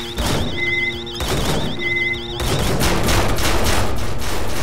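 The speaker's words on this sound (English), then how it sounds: "Okay, I have a lot of turrets going." Sentry turrets in the People Playground video game firing rapid bursts, a loud clattering fusillade of shots alongside electronic warbling tones and beeps, becoming denser and more continuous toward the end.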